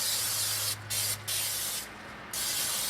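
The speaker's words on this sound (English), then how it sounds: "I've just got some cheapo spray vegetable oil that I'm just going to spray all up in the" Vegetable oil cooking spray hisses inside a Cookshack Smokette Elite smoker in three loud bursts, the second very short and the last longer, with brief pauses between them.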